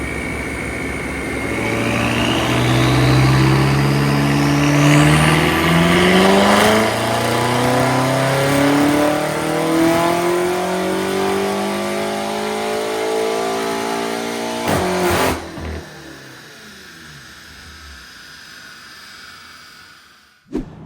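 A 765 hp Stage 2 BMW M8 Competition convertible accelerates hard from 100 to 200 km/h, its engine roaring up through rising pitch with several gear shifts, loud and close, then the revs drop away near the end.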